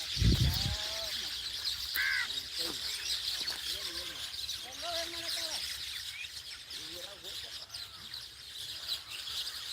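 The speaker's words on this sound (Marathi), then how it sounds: "कसं आहे पक्ष्यांचं किलबिलाहाटचा आवाज कसं वाटतंय तुम्हाला" Birds calling and chirping at a distance over a steady outdoor hiss, with a few harsher caws and soft murmured voices in the background.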